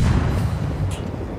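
Deep booming naval gunfire from warship guns in World of Warships, one loud sustained rumbling blast at close range that slowly fades with no talk over it.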